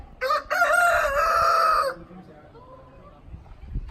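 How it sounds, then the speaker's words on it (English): A rooster crows loudly nearby in one long, strained call, then fades into quiet background noise. "Oh, there's the funky chicken."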